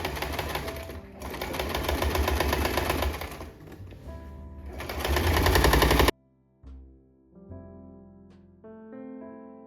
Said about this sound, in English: So start sewing about 5 millimeters or 1 centimeter from the edge.